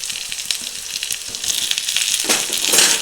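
Onion, potato and drumstick pieces frying in a pan, a loud, continuous close sizzle with light crackles that intensifies toward the end; no talking.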